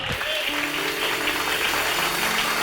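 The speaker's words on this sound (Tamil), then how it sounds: "கைத்தட்டு." A church congregation claps together during a Tamil Sunday service, with a short burst of steady, close applause that fills the room throughout.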